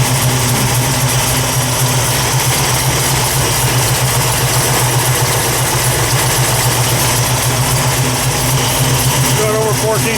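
A cold Dodge engine idles steadily with a continuous low hum and faint ticking, with the fans also running, and someone talks over it throughout.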